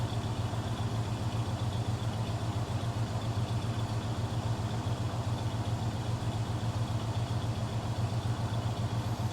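A Chevrolet El Camino with electronic fuel injection idles steadily, a constant low engine hum with a faint mechanical clatter, unchanging throughout and without talk.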